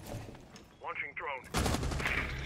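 Gunfire in a shooter video game comes as a burst of sharp shots that swells loud about halfway through, with a voice briefly audible over it.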